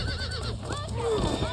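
A horse whinnies in Red Dead Redemption, a short rising-and-falling neigh alongside hoof clip-clops, with someone talking over the game sounds.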